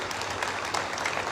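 Applause for Sir Zia at an MOU signing ceremony between the Governor Sindh IT Initiative and Karachi University, a steady dense clatter of clapping hands spread evenly across the short moment.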